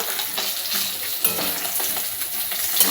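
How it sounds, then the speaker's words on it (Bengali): Pieces of fish fry in a pan on a gas stove, giving a dense, steady hiss and sizzle close up, with faint scrapes, and no talking. "এখানে হচ্ছে মাছ ভাজা"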